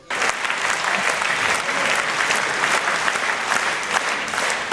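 A large audience of about a thousand fills a concert hall, the Victoria Hall, with sustained, dense applause. It runs steadily and loudly from start to finish with no pauses.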